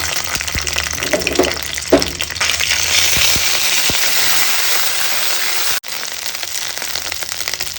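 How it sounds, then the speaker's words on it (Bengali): Ginger paste hits hot white oil already holding cinnamon and bay leaf, setting off a loud, close, continuous sizzle with a burst of sputtering crackles early on and a brief dropout near the end. "কড়াতে বেশ খানিকটা সাদা তেল দিয়ে দিয়েছি আর এর মধ্যে দিয়েছি একটু দারুচিনি আর একটু তেজপাতা এবার দিয়ে দেবো আদা বাটা"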